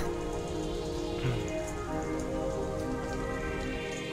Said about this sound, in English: Sounds like it's raining, I just noticed.